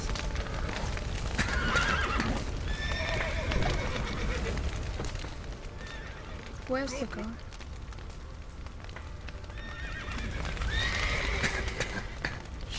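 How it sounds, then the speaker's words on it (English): Horses neigh and whinny in The Witcher 3: Wild Hunt, with hooves clip-clopping beneath; several loud whinnies stand out near the start, middle and end, while a player speaks over the game sounds. "Come on, horses."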